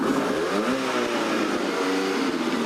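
The engine of a 2006 Mercury Mariner on a race track pit lane revs steadily, a loud, close, continuous mid-pitched drone with rising and falling tones and no voices.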